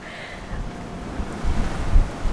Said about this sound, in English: So windy though